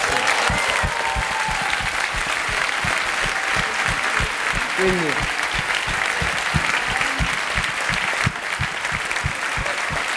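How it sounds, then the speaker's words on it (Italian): A university lecture hall audience in Naples applauds a tribute to comedian Massimo Troisi, with dense, sustained clapping filling the room and a few brief voices calling out over it. "facciamolo a Massimo questo applauso"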